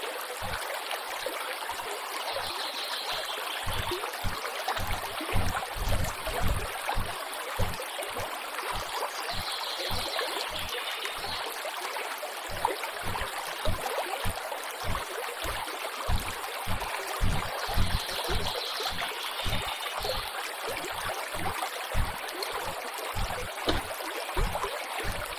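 A river stream flows through dense jungle with a constant rushing hiss and soft gurgles. Its level stays steady for the whole stretch, and a regular low thumping runs beneath the water.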